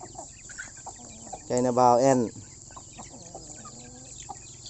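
Village-raised chickens give a short, loud burst of clucking that lasts under a second, set against quiet outdoor background noise with faint talk.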